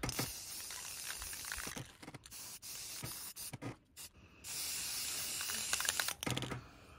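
Steady hissing bursts from a spray paint can, close and fairly loud, broken by short pauses, with a long continuous spray near the end.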